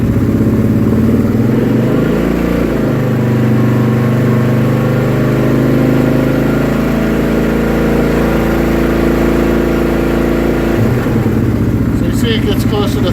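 A 2016 Yamaha Grizzly ATV engine running loud and close, idling steadily and then coming off idle with rising and falling revs, its pitch shifting across the run before dropping back near the end.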